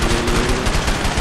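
Dense, rapid gunfire hits the player in A Way Out, a loud, close burst of overlapping shots with no pause.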